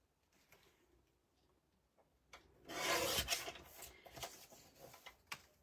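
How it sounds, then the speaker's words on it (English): Card is trimmed down to four-inch photo mats with a brief rough cutting rasp near the middle, close and moderately loud. A few light ticks and taps come before and after. "if we take that piece of card, trim it down to"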